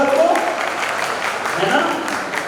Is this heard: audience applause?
yes